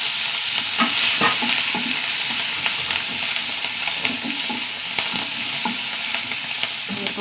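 Beetroot stir-fry with onion, green chili and curry leaves frying in a pan, with a steady close sizzle and repeated scraping stirs of the spatula throughout.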